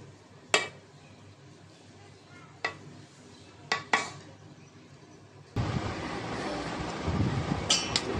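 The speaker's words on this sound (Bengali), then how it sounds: "বিরিয়ানিটা এখন বাটিতে বাটিতে ঢেলে নেব।" Chicken biryani scooped from a cooking pot into bowls: sharp metal clinks of a spoon against the pot spaced out over several seconds, then a louder, denser scraping and shuffling of rice with a few more clinks.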